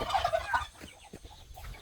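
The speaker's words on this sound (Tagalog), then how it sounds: "Hala, andito na naman tayo sa mga manok." Several chickens cluck and gobble close by on a farm, a burst of squawky calls followed by softer, scattered clucks.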